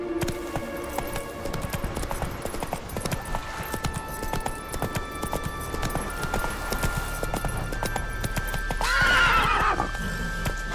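A horse in The Witcher 3 video game clip-clops steadily throughout, with a loud, close neigh near the end over the game's ambient background.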